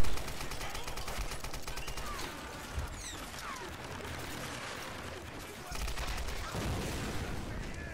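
Sustained automatic gunfire in Tomb Raider, a steady rattling stream of shots with occasional heavier booms and mechanical clanks, fairly close, persisting for several seconds.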